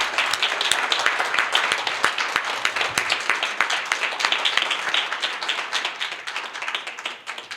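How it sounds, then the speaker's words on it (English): Audience applauding a former corrections officer after his closing keynote at a conference: a burst of clapping with sharp individual claps standing out near the front, full at first and gradually thinning toward the end. "a big round of applause for Bryan Tann"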